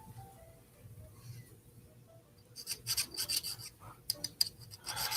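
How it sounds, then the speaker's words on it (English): Sharpening stone rubbed back and forth against a carbide router bit, soft at first and then a series of short, gritty rasping strokes, close and fairly quiet. "I'm moving the stone, I'm not moving the bit"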